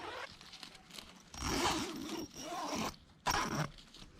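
A zipper on a British Army mosquito cot tent, with a couple of sticking points, is pulled in a few short, raspy bursts with brief pauses between, close and fairly quiet.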